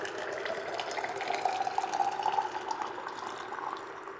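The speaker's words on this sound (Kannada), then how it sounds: "ಈ ಒಂದು ಕೆಟಲಲ್ಲಿ ಬಂದು ನಾನು ಬಿಸಿ ನೀರು ಕಾಯಿಸ್ಕೊಂಡಿದ್ದೀನಿ." Hot water pours from a kettle into a vessel, a quiet, steady gurgling stream whose tone climbs gradually as the container fills, with no voices.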